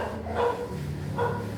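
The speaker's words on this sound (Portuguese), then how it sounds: "Esse cachorro chato." Two faint, muffled barks from a dog a short way off, heard indoors against a steady background hum.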